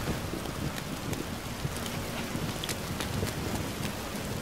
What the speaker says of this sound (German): Regnet es eigentlich nur in dieser Stadt.